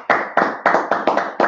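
Hands clap in a church congregation, six crisp, evenly spaced claps in quick rhythm, close and loud with no voices.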